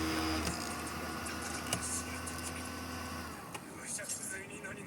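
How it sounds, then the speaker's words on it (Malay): A laundromat exhaust fan runs with a steady, droning motor hum and whir that continues throughout at moderate level, with faint background clatter. "Ni dia kipas exhaust fan 3 running"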